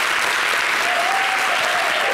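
A television studio audience claps loudly in a dense, continuous wash of applause, with a faint voice briefly rising over it.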